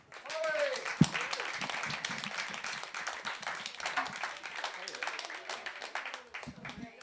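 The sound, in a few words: audience applause at comedy show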